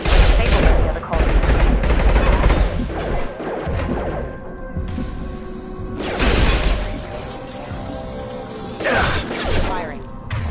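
Gunfire in a firefight from the video game Mass Effect Legendary Edition, loud bursts of shots with crashes and mechanical noises at the start and again around the middle and end, with a voice talking in places.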